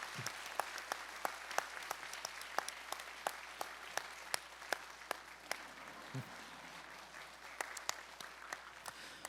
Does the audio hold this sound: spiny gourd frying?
no